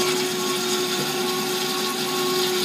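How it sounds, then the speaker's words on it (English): An AMADA HA 250W automatic horizontal band saw from 1997 runs dry without coolant, giving a steady, loud mechanical whine with a constant pitched tone over broadband grinding noise and no pauses. "We're not running with coolant, so we'll do a few cuts"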